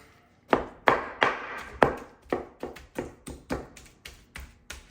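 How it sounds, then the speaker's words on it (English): Smoked pulled pork from a pellet smoker chopped finely with a pair of cleavers, about a dozen sharp, close thwacks on a board in an uneven rhythm, each ringing briefly before the next. "I got a couple of cleavers here, and I love chopping it up really fine"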